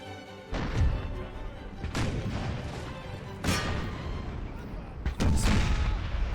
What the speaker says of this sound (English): artillery fire into them. Howitzer fire into those.